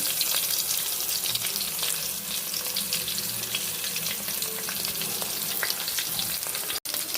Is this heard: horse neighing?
no